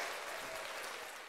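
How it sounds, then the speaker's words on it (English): A crowd applauds for a coach, a brief burst of steady clapping that fades slightly toward the end. "Another round of applause for Coach."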